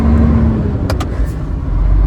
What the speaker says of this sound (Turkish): Karşıdan araba geliyor. Çok hızlı geliyor.